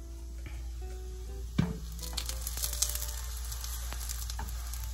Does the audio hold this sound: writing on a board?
no